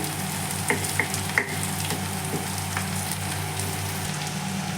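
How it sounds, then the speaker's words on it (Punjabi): Turmeric roasting in oil in a pan, a steady close sizzle with a few light taps and scrapes early on, then a continuous even frying hiss. "ਇੱਥੇ ਆਪਾਂ ਹਲਦੀ ਨੂੰ ਭੁੰਨ ਲਵਾਂਗੇ"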